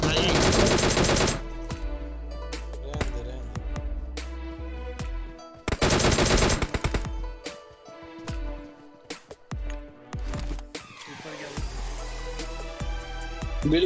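Gunfire in PUBG Mobile on the Livik map: two loud, sustained automatic bursts separated by a lull, then scattered single shots and quieter game sounds, with little talk.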